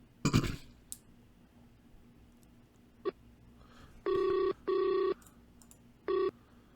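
A telephone line sounds three electronic ring bursts, two close together then a third after a pause, preceded by a faint click and a cough, with no talking.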